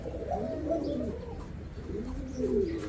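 A pouter pigeon coos softly nearby in two low warbling phrases separated by a brief pause, with no voices.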